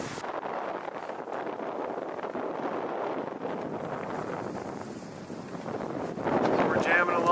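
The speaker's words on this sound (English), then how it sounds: "the wind's really picked up" Strong wind on a sailing boat in the Tuamotu islands, around 20 knots: a constant roaring rush buffets the microphone and swells louder near the end.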